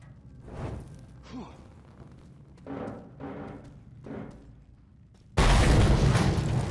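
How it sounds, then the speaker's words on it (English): Fuel can explosion in the Mad Max video game: a sudden loud, dense blast lands near the end, after quieter game sounds and soft thumps. "With a fuel can and some explosion?"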